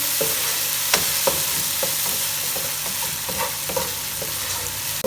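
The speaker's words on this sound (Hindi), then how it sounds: "इसको 1 मिनट तक हम इसके साथ फ्राई करेंगे" Ginger garlic paste and spices sizzle steadily in hot oil for beef tikka biryani, a loud continuous frying hiss with occasional spoon scrapes and stirring knocks against the pan.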